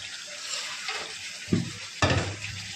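Beans, potato and eggplant are sautéed in spiced oil, a soft continuous sizzle with two distinct clattering bursts of stirring in the pot close by.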